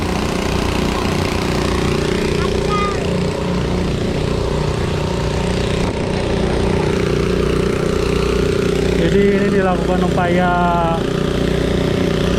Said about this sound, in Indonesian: menggunakan mesin pompa air 2 biji tuh